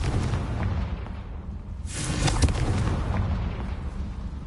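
Confringo fire spell blast in Hogwarts Legacy, a rumbling whoosh swelling over dense game ambience and fading slowly, with no talk.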